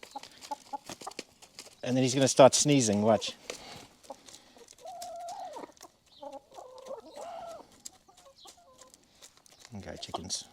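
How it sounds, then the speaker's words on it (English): Farm chickens cluck and squawk in a loud burst near the listener, followed by softer scattered clucks, while someone talks intermittently. "I'm being followed by chickens"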